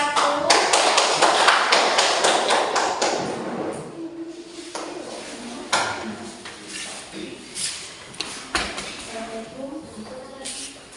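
An audience in a classroom-style teaching assessment claps for a group called up to present, starting as a loud burst of many hands and thinning into scattered taps and thuds over several seconds, with voices talking beneath.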